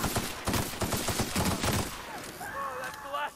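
Gunshots in The Outer Worlds, a quick rapid series of sharp shots over about two seconds, fairly faint, then fading into quieter ambient tones.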